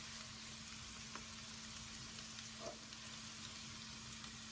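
About a tablespoon of sambal chili paste sizzles in a skillet, a soft, continuous crackling fry with faint steady hiss and a couple of small pops, no voices.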